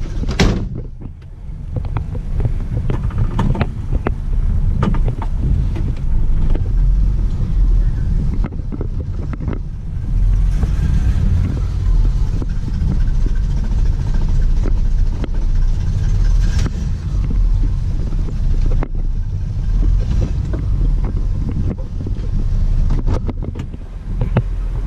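A 1966 Chevy II Nova, newly revived after sitting with stale fuel in the tank, drives off with its engine rumbling low and steady, heard from inside or close by amid heavy wind buffeting.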